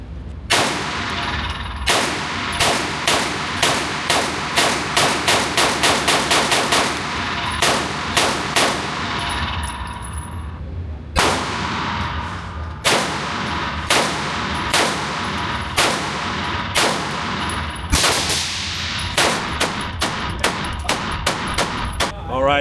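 Bursts of gunfire from a Bear Creek Arsenal BC9 pistol caliber carbine fitted with a brace, loud sharp reports in rapid strings of shots with brief pauses between groups, some metallic clangs ringing among them.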